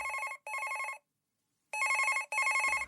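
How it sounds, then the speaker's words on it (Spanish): A telephone ringing in a home: two double bursts of a bright electronic trill separated by a silent gap, loud and close with no voices. "De repente timbró el teléfono."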